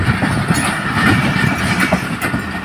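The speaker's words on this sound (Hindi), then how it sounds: "हज़ारा एक्सप्रेस अब स्पीड पकड़ दी जा रही है।" Hazara Express passenger train near a locomotive shed, a steady loud rumble of wheels and engine with faint clatter as it gathers speed, no voices.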